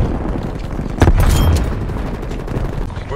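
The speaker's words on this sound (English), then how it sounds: "Throwing frag grenade." A frag grenade detonates in the Call of Duty Cold War video game, a sudden loud boom near the one-second mark with a long rumbling tail over dense background battle noise and scattered gunfire.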